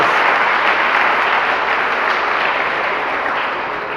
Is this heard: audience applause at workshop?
yes